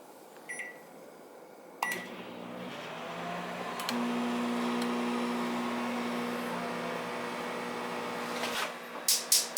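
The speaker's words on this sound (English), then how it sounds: "Zap them right in the microwave there, quick." A microwave oven hums steadily with a low electrical drone, starting with a click and ending with a thunk and a few quick beeps.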